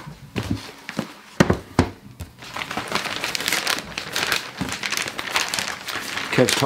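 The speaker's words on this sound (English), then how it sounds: "if you are going to tear your wrapping paper, put the torn piece inside so nobody ever notices." Wrapping paper being torn by hand while gift-wrapping a 2018 iPad without scissors: close, loud crinkling and ripping in bursts, heaviest in the second half, with talking over it.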